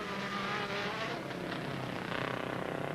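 A Mini rally car races through the cutting at Boyd's Quarry during 1982 rallycross, its engine roaring loudly and steadily at high revs, rising slightly toward the end.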